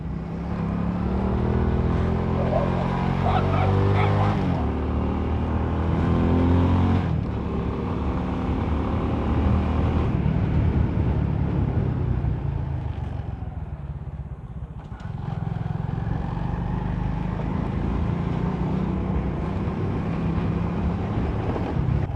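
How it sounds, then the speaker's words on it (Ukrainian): A motorcycle engine drones loudly and continuously while riding, its pitch rising and falling with gear changes, buffeted by wind noise, with something on the bike rattling. "Так кайфово на мотоциклі їхати, блін."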